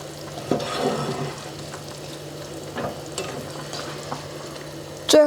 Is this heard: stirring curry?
yes